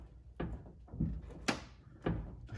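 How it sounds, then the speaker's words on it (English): A VW Bug car door is lifted, its metal body flexing with a series of hollow thunks and creaky knocks, four or five close bumps spaced about half a second apart. "If I lift the door, you'll see the metal flex."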